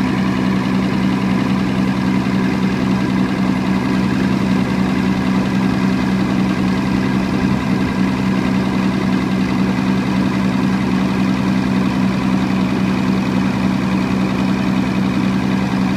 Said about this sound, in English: this unit I'm running on this generator here